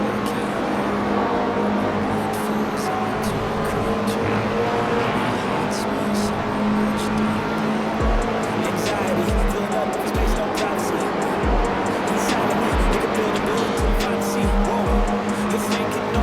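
Toyota race cars in the iRacing game sweep past one after another, a sustained roar with repeated whooshing pass-bys and sharp tire noise, while a voice talks over the action.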